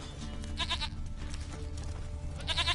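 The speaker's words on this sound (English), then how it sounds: "Here, goat." A goat bleating in The Witcher 3, two short wavering bleats about two seconds apart over a low, muffled background.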